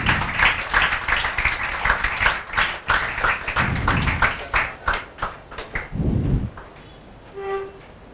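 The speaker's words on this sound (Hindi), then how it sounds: "बजाओ रे बाबा, बजाओ, तालियां बजाओ।" A classroom of students applauds during a lecture, steady clapping from many hands that gradually breaks into scattered claps, with a low thump and a brief tone near the end.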